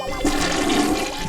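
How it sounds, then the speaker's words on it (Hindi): A toilet flushes loudly and close up, a short rushing gush of water with no talk over it. "तुम्हारी आवाज दबाने के लिए बार बार ये फ्लश दबाना पड़ रहा है।"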